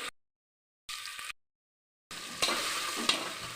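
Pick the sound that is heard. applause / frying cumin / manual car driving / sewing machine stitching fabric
frying cumin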